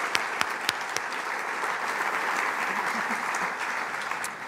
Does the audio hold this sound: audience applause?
yes